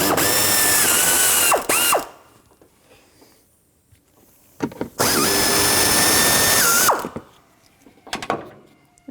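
A ratchet wrench with a 10mm socket works the mounting bolts of the upper fan shroud on a 1997-2004 Dodge Dakota, giving two long, loud bursts of rapid clicking separated by quieter pauses with light handling noises.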